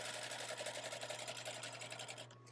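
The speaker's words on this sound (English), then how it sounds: "I'm just going to do 2 stitches backwards and continue stitching all the way straight down to the end." A sewing machine stitching a centered zipper seam, a fast rhythmic close-up whir and patter of the needle, fairly quiet, stopping abruptly just before the end.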